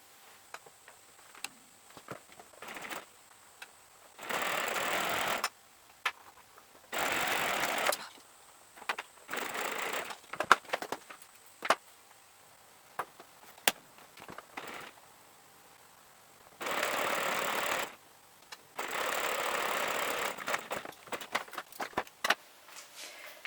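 Sewing machine stitching bunting quilt pieces, running in several steady whirring bursts of a few seconds each, separated by quieter ticking and handling noises, close and fairly loud.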